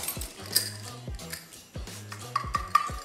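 A mixing bowl is handled while icing sugar is added, with a few close clinks, taps and light scraping knocks against the bowl, spaced irregularly through a quiet kitchen.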